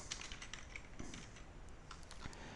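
Light, rapid clicking of a computer keyboard being typed on, faint and steady with small bursts over a few seconds, no voices.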